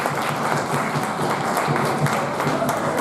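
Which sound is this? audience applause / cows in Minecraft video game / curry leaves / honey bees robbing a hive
audience applause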